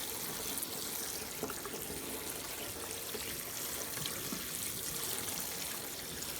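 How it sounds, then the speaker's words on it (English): Tap water runs steadily over beans being rinsed in a kitchen, a faint, continuous hiss and trickle with no voices. "you just make sure that you rinse the beans very well"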